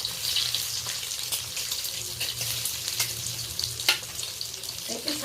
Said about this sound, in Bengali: ডিমগুলো আমি খুব সাবধানে ভেজে নেব